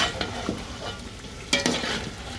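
A spoon scrapes and stirs chicken biryani frying in oil in a pot, giving soft scraping strokes over a steady low sizzle, close by with no talk.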